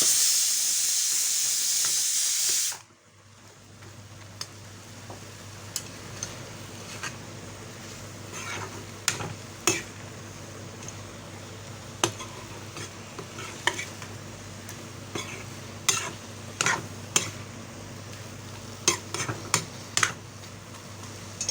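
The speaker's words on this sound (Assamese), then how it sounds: "ভাজি ল'লোঁ ভালদৰে, 4বাৰমান লাৰিছোঁ ঢাকনেৰে এৰাই" After a loud hissing start, a spatula stirs vegetable fry in a pan on a gas stove, with soft scraping strokes and light sizzling at an irregular pace, close by and with no talk.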